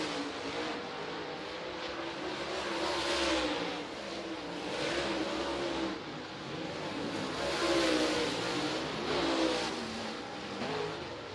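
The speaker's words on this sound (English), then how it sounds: "Oh, watch the cars rip and roar around Cochran Motor Speedway." Super late model race cars roar around Cochran Motor Speedway during hot laps, a continuous loud engine drone that swells and fades as the cars pass.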